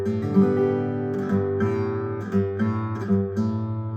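A strummed guitar chord with the open fifth string left ringing as a low drone underneath, struck several times in a steady rhythm, close and fairly loud.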